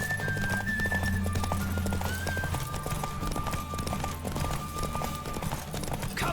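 A horse gallops in The Witcher 3 open-world fantasy game, a rapid continuous clip-clop of hooves on the ground at close range, with a brief whinny and game sounds layered underneath.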